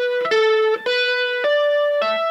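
Electric guitar plays a fast pentatonic run with hammer-ons and pull-offs, distorted tone sliding between a few sustained notes with sharp picked attacks, loud and close without speech.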